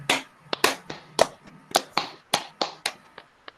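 Group hand clapping during a training session, a count-based pattern of sharp claps in short bursts, fairly close and distinct with no talk.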